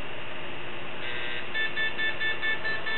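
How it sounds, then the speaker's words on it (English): Repeated electronic beeps from a handheld Quantum Sniffer QS-H150 explosives trace detector sounding a PETN alarm, a steady tone followed by a run of short pulsing beeps, close and loud with no talking. "And we get a PETN alarm"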